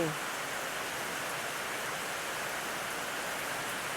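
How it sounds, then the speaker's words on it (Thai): Steady, dense hiss of heavy rain pouring down without pause, a constant wash of noise close around. "บรรยากาศฝนตกอย่างหนักเลยทั้งวันเหมือนฝ่าเป็นหนาม"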